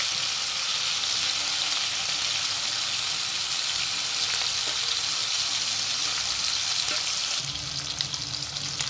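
Chilli chicken frying in a pan, a loud, steady, continuous sizzle with faint crackles and a few light scrapes near the end, close up, with no talking.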